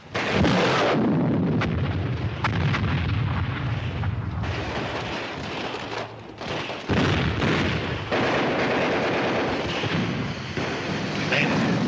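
A loaded gun is fired, probably an artillery piece in a 1953 war film, producing heavy booming blasts and rumbling reports over a dense battle din, with voices mixed in.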